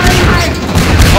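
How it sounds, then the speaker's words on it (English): Explosive barrels blowing up in Garry's Mod, a loud, continuous blast of booming, rumbling noise filling the whole moment with no clear gaps. "Don't shoot explosive barrels because it kind of just like makes them all explode"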